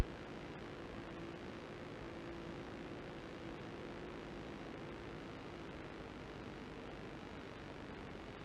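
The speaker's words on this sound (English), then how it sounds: "Okay, made a nice landing right on the center line." Zenith CH 650 light aircraft engine running after landing, a steady, continuous drone that holds at an even level throughout with no talking.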